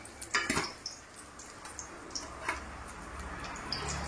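Metal utensils lift fried chicken pieces one by one out of a pan, making scattered light clinks and taps against the metal over a faint background sizzle.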